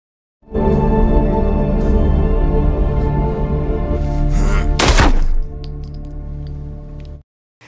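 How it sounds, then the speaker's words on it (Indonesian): A single loud gunshot from a film scene cracks sharply over a dense, sustained dramatic score, with a metallic ring trailing afterward as the music fades out. "Tanpa basa-basi lagi, James pun langsung menembak Rusty."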